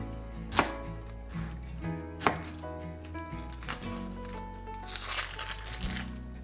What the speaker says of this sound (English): So we're gonna go ahead and just cut our green onions and our yellow onions.